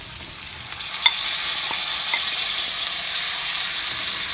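Cauliflower fries and is stirred in a pan, making a steady, even sizzling hiss with one sharp knock near the start and a few faint scrapes after it.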